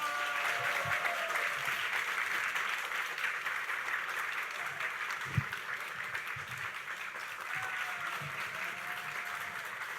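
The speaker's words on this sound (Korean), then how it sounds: "오늘 어제 이후에 가장 큰 환호와 박수로 맞이해 주셨으면 좋겠습니다" Applause and cheering from an audience welcoming a speaker onto the stage at a developer conference's special session. The sound is a dense, steady wash of clapping that holds at an even level for the whole stretch, with a few stray louder claps and no talk over it.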